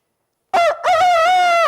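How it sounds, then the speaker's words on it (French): A rooster gives one loud, close cock-a-doodle-doo, a short opening note followed after a brief break by a long, sustained harmonic call, with nothing else heard around it. "Le coq a chanté."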